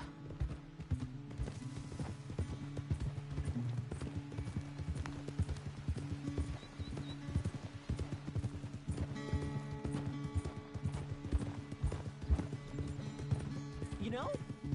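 Horse hooves clip-clop steadily on a trail in Red Dead Redemption 2, a continuous close rhythmic clatter lasting throughout, with game dialogue and a brief whinny near the end.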